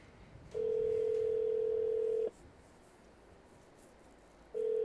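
A steady telephone dial tone plays for nearly two seconds during a prank call and cuts off. After a quiet pause the tone starts again, clear and alone with no talking.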